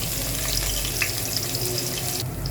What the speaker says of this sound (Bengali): পাতিলে তেল গরম করে নিয়েছি এবার পেঁয়াজ মরিচে একটু ভেজে নিই